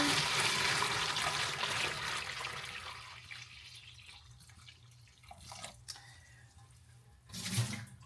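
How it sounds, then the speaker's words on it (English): Hot water poured into a container for melting a wig, a loud, rushing splash at first that thins into softer trickling and dripping, with a few small knocks toward the end. "So the water's hot. I'm gonna pour it in here."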